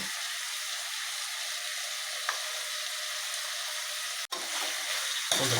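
Mutton chops gravy sizzling and being stirred in a pan, a steady close frying hiss with a couple of brief utensil knocks near the end.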